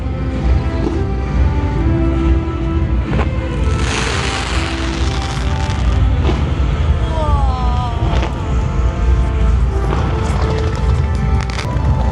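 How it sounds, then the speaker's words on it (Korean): Dense, continuous crackling and booming fill the air with loud broadband bursts from a fireworks show at Everland theme park, up close, with faint voices mixed in. "너 인생에 처음 보는 불꽃놀이"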